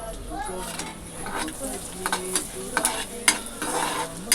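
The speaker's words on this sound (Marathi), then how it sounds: "तर हे थोडंसं लालसर लसूण होईपर्यंतच भाजायचे आपण जास्त करपवायचं नाही आहे लसूण" Garlic cloves, cut small, fry in a pan and sizzle steadily while a spoon stirs and scrapes through them, with light clinks against the pan.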